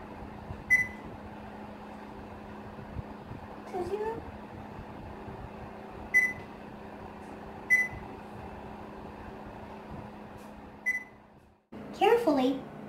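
An oven humming steadily while cod and potatoes cook inside, a constant low drone broken by several short electronic beeps, with a voice heard near the end.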